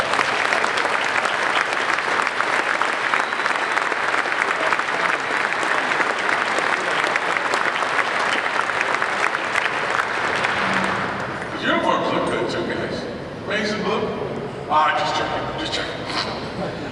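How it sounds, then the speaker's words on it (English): Loud, sustained applause from a large crowd, clapping steadily for about eleven seconds before dying down into scattered claps and murmuring voices. "let's give them all a big round of applause."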